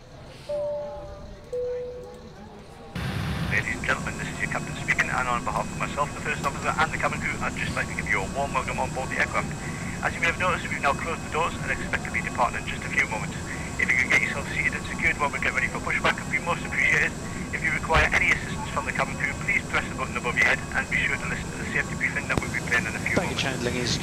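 A welcome aboard cabin announcement plays for first class passengers in a British Caledonian Boeing 747 flight simulator. After a quiet opening, a voice speaks steadily over a constant, fairly loud cabin and engine hum.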